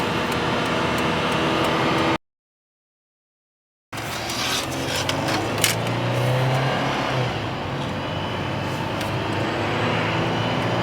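A car with a transmission that won't shift and a faulty speed sensor drives down the road at about 5,000 RPM, giving a loud, steady engine roar that cuts out for a moment before droning on.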